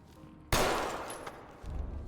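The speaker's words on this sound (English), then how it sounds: "What are you shooting at? The piano." Gunfire in the tactical shooter Ready or Not, aimed at a piano in a reception hall: a loud sharp burst starts abruptly, rings and decays over a second or so, with a fainter thump following, no talk over it.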